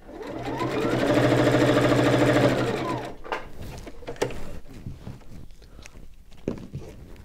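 A sewing machine stitches fabric in a steady, close mechanical whir that rises and holds for about three seconds, then stops, followed by quieter handling clicks and taps.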